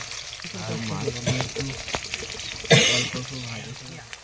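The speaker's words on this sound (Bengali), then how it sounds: "তেল কিন্তু গরম হয়ে গেছে, আর মাছ কিন্তু ইলিশ মাছ কড়াইতে দিয়ে দিয়েছি" Hilsa fish frying in hot oil in a wok: a steady close sizzle under continuous talk, with a sharp louder spit of hot oil partway through.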